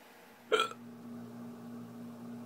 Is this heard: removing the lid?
no